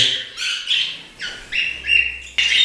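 Budgerigars chirp in quick, bright bursts, several overlapping high tweets close by with no talking.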